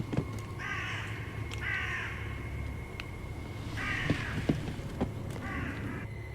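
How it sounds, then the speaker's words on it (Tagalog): Disturbed crows caw at dawn, with four harsh bursts of cawing at a moderate distance and scattered clicks and soft thuds between them. "Nakarinig din siya ng mga ingay ng nabulabog na mga uwak."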